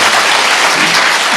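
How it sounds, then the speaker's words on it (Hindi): A church congregation applauding loudly, a dense, steady wash of clapping from many hands that fills the whole moment without a break. "जोर से ताली बजा दो, कम से कम जागेंगे"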